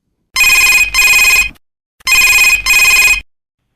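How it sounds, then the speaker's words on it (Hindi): A telephone rings on a Chhattisgarhi folk-song phone-in programme on Akashvani Raipur radio, two loud double-burst rings separated by a short pause, with no talk over them. "फोन के घंटी हा बाजल धरली से"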